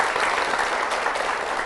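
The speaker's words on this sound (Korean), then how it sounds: "박수 부탁드리겠습니다." A church congregation applauds steadily as a church deacon's sister is welcomed, a continuous, even wash of clapping with no voices.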